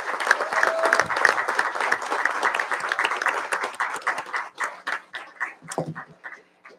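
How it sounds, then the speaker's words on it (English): A round of applause from the audience at a town committee meeting in Port Hope, dense clapping at first that thins into scattered individual claps before fading out. "Let's give them another round of applause."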